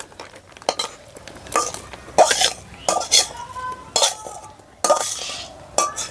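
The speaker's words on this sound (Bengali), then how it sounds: "ভালো করে একটু ঢেলে নিতে হবে।" A hot peanut candy mixture is poured out and scraped from a pan with a utensil. Repeated loud scraping and clinking strokes come at irregular intervals, close up, over a faint background.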